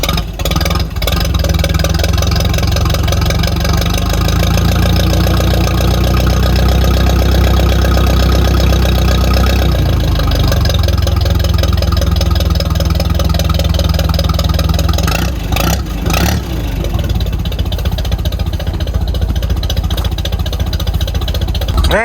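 An old small engine runs loud and close, a steady rough mid-pitched chug with uneven knocking and a brief dip partway through before it carries on running.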